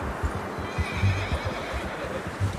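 A horse neighs and whinnies in Red Dead Redemption 2, with hoof clip-clop and low rumbles around it, moderately loud and close throughout.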